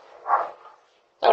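A dog barks twice at close range during a rowdy house party: one fuller bark, a pause, then a sharp second bark cut off at the end.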